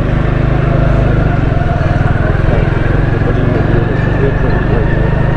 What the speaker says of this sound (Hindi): मैं आपको मोटरसाइकिल पे जो है ना सफ़र करवा रहा हूँ आपको सब्ज़ी मंडी का